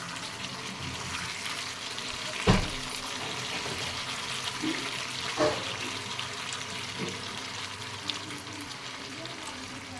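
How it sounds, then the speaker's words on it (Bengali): Water poured into a frying pan of lemon leaf chicken whose juices have cooked down, giving a steady hiss and bubbling with a few sharp clinks and knocks of utensils. "এবার আমি পরিমাণ মতন জল অ্যাড করে দেব।"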